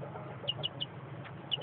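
Ten-day-old imported chicks peeping in a pen, a few short high chirps scattered over a steady low background hum, fairly faint and with no talk.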